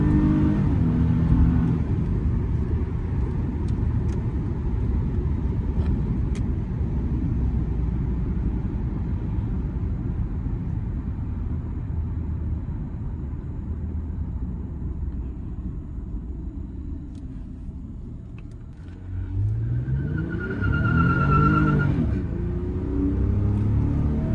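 A 2015 Toyota Venza V6 SUV on brand-new tires pulls hard under heavy acceleration, a steady, loud engine roar and road rumble from inside the cabin that swells again near the end with a brief whine, no talk.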